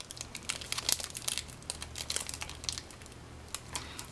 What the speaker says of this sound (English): then I take the label off of the plastic that it came in